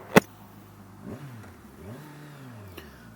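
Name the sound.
2023 Kawasaki Ninja 1000 SX motorcycle engine while riding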